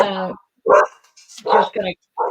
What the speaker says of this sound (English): I don't know if you guys heard, but my dogs were barking earlier.